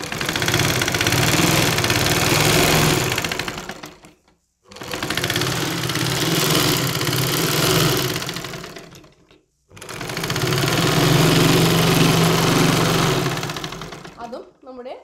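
Sewing machine stitching churidar fabric in three sustained whirring runs of about four to five seconds each, separated by brief stops, close and steady.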